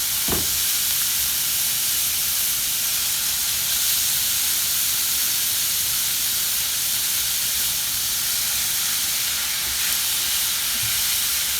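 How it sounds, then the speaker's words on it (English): Ground beef chuck, 80% lean and 20% fat, sizzling in a preheated pan, a steady, loud hissing fry that holds evenly throughout with no talk. "I'm gonna take some of my chuck, my ground beef, and break it up in a pan"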